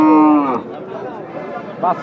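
A heifer lets out a long, loud moo close by at a village cattle market in Kurigram, followed by a few softer grunting calls.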